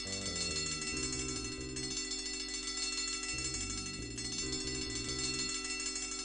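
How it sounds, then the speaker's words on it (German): A ringing bell in the point-and-click video game Simon the Sorcerer, a continuous loud, dense chiming tone with shifting pitches over game music, no talk. "Kannst du die Glocke nicht ausmachen?"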